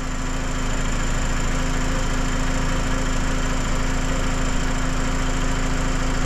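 2005 VW Beetle with a 2.0L engine, which has an alternator that is not charging and a melted fuse box, idling steadily, a close, constant hum with an even mechanical throb and no speech.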